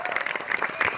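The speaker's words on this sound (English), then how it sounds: "Big applause for them." Brief burst of audience applause at a live wrestling podcast show, a dense patter of clapping close by with voices mixed in.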